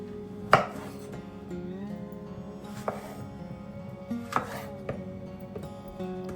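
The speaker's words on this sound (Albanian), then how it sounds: "Në të njëjtën mënyrë do të bëjmë dhe me kungull, do ta presim." A knife cuts through a medium green zucchini on a board, giving a few sharp, separate chops spaced a second or more apart over a steady hum, close and fairly clear.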